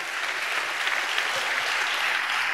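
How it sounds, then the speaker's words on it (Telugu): A church congregation in Hyderabad claps together during a service: dense, continuous applause from many hands, steady and fairly loud, with a faint murmur of voices underneath. "చప్పట్లు కొడుతూ దేవునికి స్తోత్రాలు చెప్పు."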